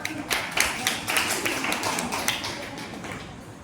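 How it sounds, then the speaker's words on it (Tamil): A group applauding steadily, with dense overlapping claps that keep going without a break. "அவங்களுக்கு ஒரு கைத்தட்டல் கொடுக்கலாம்"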